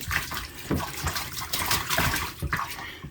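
Water sloshes and splashes irregularly inside the hull of a Jackson Knarr kayak that is taking on water. The gurgling surges are close and fairly loud, and a voice is faintly mixed in.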